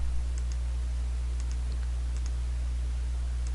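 A computer mouse clicks a handful of times at a steady pace while working in Dreamweaver, each click small and crisp over a loud constant low hum, with no voice.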